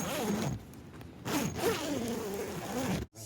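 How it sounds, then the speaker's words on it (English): A zipper on a small greenhouse cover sheltering frost-blanketed young fig trees is pulled in several quick rasping strokes, close and crisp, on a windy day. "zip them"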